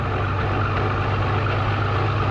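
A 1949 Fordson P6 Major tractor engine drones steadily on a road, with a low, heavy rumble and the whine of its differential blended into a constant, loud, close running sound.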